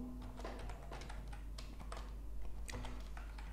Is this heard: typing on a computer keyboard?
yes